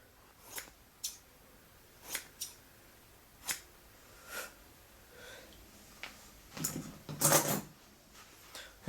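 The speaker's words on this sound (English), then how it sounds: "I can't believe these scissors cut." Wolves scissors made in the USA snipping in a quiet room, giving a series of short, crisp cuts spaced about a second apart, followed by a brief flurry of louder rapid snips near the end, with no voices.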